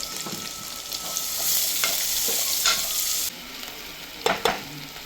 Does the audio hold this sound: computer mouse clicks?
no